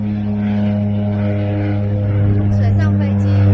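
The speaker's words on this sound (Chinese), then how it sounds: "水上飞机。" A seaplane flies over the Maldives, its propeller engine making a steady, close droning hum throughout, with faint voices in the background.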